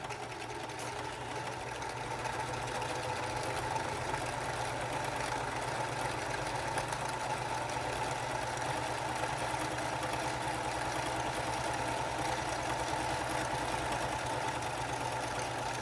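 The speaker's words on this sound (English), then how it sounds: "I'm going to straight stitch the lining on" A sewing machine runs a long straight stitch along a face mask lining, a steady, fast mechanical whir with an even motor hum throughout, close and moderately quiet.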